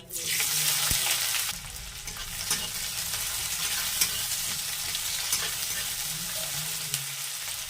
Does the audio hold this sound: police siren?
no